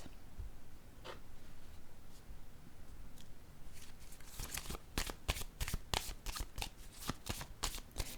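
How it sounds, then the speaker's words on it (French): A deck of cards is handled during a card reading: a few soft taps and slides at first, then a rapid, crisp fluttering shuffle with sharp snaps close by for the last several seconds. "Je vais piger une autre carte."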